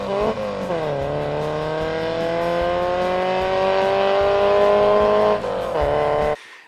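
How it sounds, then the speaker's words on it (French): A Porsche 924 race car at the South Belgian Rally roars past with sustained high engine revs and rising, shifting harmonics, loud and close throughout before cutting off abruptly near the end. "Le spectacle était également assuré par les cadors de la catégorie Istodemo, dont Sébastien Gros et sa célèbre Porsche 924."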